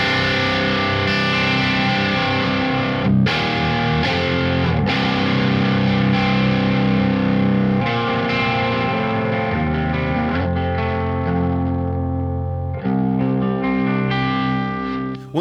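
High-gain electric guitar played through a Soldano SLO and a Peavey 5150 at once, matched gain stages and bright switches on, giving thick distorted sustained chords and riffs with brief pauses, loud and continuous.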